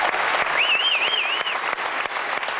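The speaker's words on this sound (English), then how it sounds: "the room erupting in applause" A church congregation breaks into applause, a dense roar of clapping filling the room, with a single high whistle rising and wavering partway through.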